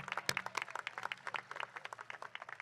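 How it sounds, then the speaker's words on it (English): Graduating high school class of 2022 applauding at a campus ceremony, a brief burst of scattered hand claps with uneven rhythm, moderately close and fairly light, without speech. "Please give yourself a round of applause."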